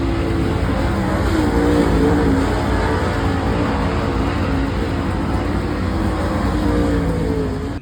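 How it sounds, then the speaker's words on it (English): Late model race cars roar around a racetrack during qualifying, a constant loud engine drone that rises and falls slightly in pitch as the cars pass. No talk. "We're just watching a few late model qualifiers, trying to get an idea what the racetrack does."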